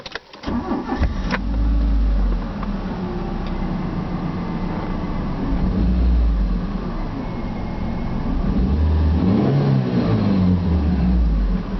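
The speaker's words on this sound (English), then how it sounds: "Does have a good sounding engine." A 1995 Mitsubishi FTO GS engine revs in the car, a steady, loud engine drone that swells up and falls back and rises again toward the end, with no voices over it.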